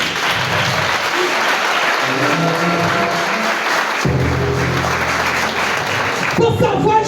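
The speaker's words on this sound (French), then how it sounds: "Si tu veux acclamer, acclame bien." A congregation at a church wedding blessing service claps in sustained, dense applause. A voice speaks through it, and the clapping thins briefly before picking back up.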